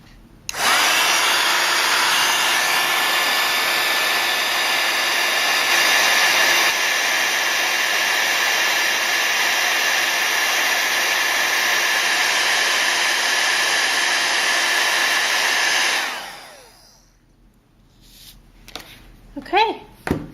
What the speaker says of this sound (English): I'm going to take my embossing heat tool